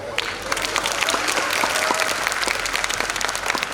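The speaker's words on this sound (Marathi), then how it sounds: "टाळ्या वाजवा ना." A crowd at an abacus academy national-level competition award function applauds in a dense, steady wash of many clapping hands, loud and sustained without a break.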